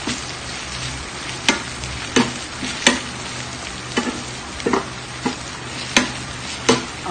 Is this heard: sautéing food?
yes